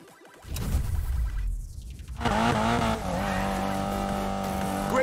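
Car tires squeal and skid during a drift run in the racing game Need for Speed Payback, a loud sustained screech over a revving engine, with a brief voice near the start.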